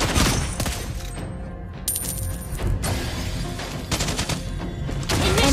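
Sniper gunshots in the mobile game Mobile Legends ring out as loud, sharp reports over dense in-game effects and background music, several shots in quick succession across the clip with no talk.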